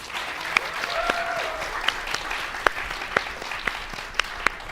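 Audience applause at a high school quiz show, a continuous bed of clapping with a few sharp, louder individual claps standing out over the crowd.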